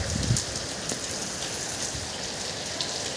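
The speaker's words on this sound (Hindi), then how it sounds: "बारिश आ रही बहुत तेज अब" Heavy rain pours down steadily outdoors, a dense, continuous hiss of drops on surfaces, close and unbroken, with no voices.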